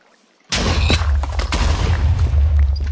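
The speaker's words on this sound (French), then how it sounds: "Explosion." A video game explosion: a sudden loud boom after a brief silence, followed by a continuing rumble and scattered crackling blasts.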